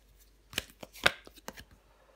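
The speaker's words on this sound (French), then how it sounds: "Je vais recouvrir l'as d'épée." A tarot card laid down over another during a reading, a few soft, quiet card slaps and shuffling flicks close by in a quiet room.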